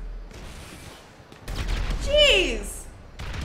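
Gunfire erupts during a yacht heist in GTA 5, with a sudden burst of shots and rattling bursts around the middle, heard over tense game effects while someone talks and exclaims.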